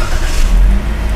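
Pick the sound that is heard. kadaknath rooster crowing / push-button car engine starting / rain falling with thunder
push-button car engine starting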